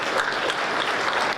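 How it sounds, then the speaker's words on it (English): A round of applause from a standing audience for council members at a celebration, a dense wash of clapping that stays steady and loud throughout. "Let's give them a round of applause."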